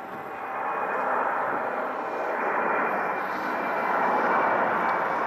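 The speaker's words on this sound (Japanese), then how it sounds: "先ほどの UPS の離陸を見てみましょう。" A UPS cargo jet roars steadily at a distance, its engine rumble swelling and holding strong as it powers through a quick takeoff run.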